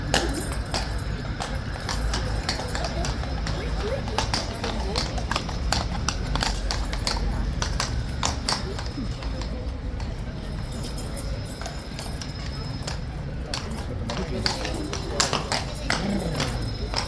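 King's Guard horses' hooves clip-clop continuously on hard ground, a busy overlapping patter of many steps, with a voice talking at times.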